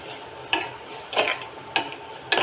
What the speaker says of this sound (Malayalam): മഞ്ഞൾപ്പൊടി ഇളക്കി കൊടുക്കുക